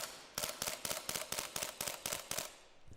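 Krytac KRISS Vector gas blowback airsoft gun firing a rapid string of about ten sharp cracks in even rhythm, close and loud, with no voices.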